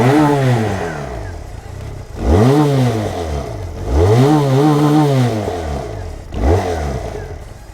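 A QJ Motor SRC250 motorcycle idles up close, its exhaust rising in three sharp revs that swell and fall back to a rumbling idle, with no talking.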